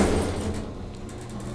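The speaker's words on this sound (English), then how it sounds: "the door is so rough and loud" Doors of a vintage 1974 Dover hydraulic elevator in an office building closing, a rough, loud mechanical rumble that runs steadily and ends in a sharp thud.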